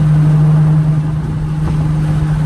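Steady, droning engine and exhaust hum from a Nissan 350Z fitted with a cheap aftermarket eBay exhaust, cruising at about 85 mph on the highway, constant and fairly loud with a low resonant tone and road noise.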